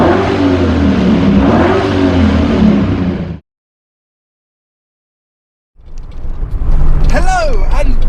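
A TVR sports car engine revs loudly and close with a throaty roar, then cuts off abruptly into silence before a voice starts talking.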